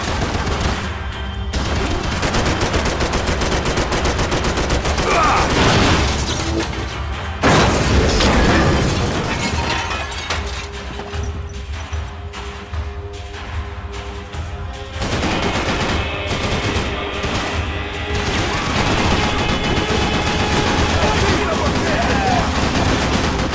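Intense gunfire in Max Payne 3, rapid machine-gun bursts and single shots mixed with booming explosions, loud and nearly continuous over twenty seconds, with a voice speaking over parts of it.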